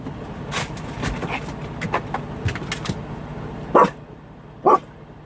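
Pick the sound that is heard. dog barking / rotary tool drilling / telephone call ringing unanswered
dog barking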